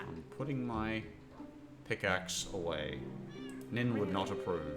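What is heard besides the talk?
cat meowing in the video game Minecraft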